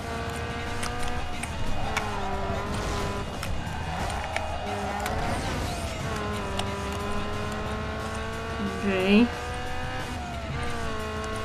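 A car engine revs steadily with rising and falling pitch while tires squeal through a power slide in the Need for Speed Underground 2 racing game, heard under a person talking.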